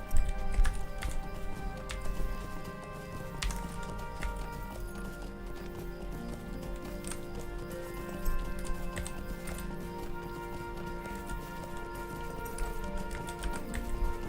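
A horse's hooves clip-clop at a steady gait in the video game Lord of the Rings Online. The hoofbeats are fairly faint and run without pause under a continuous layer of game music.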